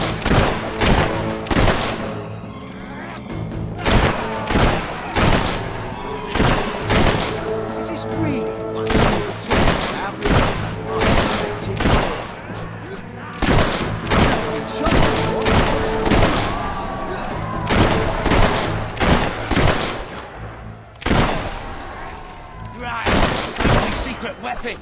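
Rapid, loud gunfire bursts out repeatedly in a Fable 3 game battle, dense volleys of shots and booms continuing throughout with brief gaps, occasional voices mixed in.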